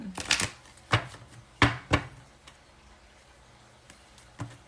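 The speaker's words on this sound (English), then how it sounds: "So this is your third shuffle." A handful of crisp riffles and snaps from a shuffled tarot deck, irregular bursts with quiet gaps between, close by with no talking.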